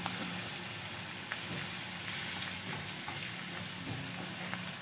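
Potatoes fry in hot oil, a steady broadband sizzle holding evenly throughout with faint crackles on top and no talking.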